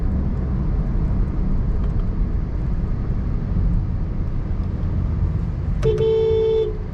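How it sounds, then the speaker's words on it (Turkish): A 2021 Honda Civic 1.6 i-VTEC sounds its horn with one short, bright honk near the end. Loud road and engine rumble from driving in traffic runs underneath. "Yani bu şekilde bir kornası var."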